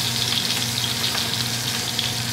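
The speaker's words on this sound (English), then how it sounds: "we'll start sauteing some mushrooms" Mushrooms sautéing in a pan beside cooking garlic, a steady close sizzle and hiss that holds evenly throughout with no talking over it.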